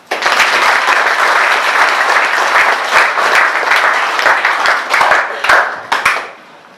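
Audience applauding at a school ceremony in Masi-Manimba, a steady burst of many hands clapping for several seconds with a few louder single claps near the end before it fades out.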